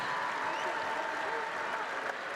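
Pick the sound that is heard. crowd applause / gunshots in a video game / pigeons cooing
crowd applause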